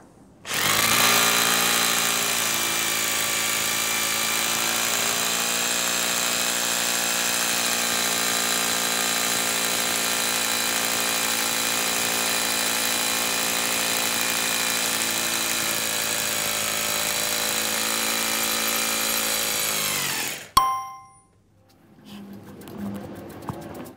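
A Deko DKRH20B50 rotary hammer, running from an EcoFlow power station, drills with a loud, steady, continuous drone for about twenty seconds, then cuts off abruptly, leaving a few clattering handling sounds.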